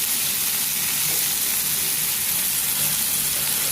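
White spring onion stalks fry in a pan with a steady, close, broadband sizzle that holds evenly throughout, with no voices.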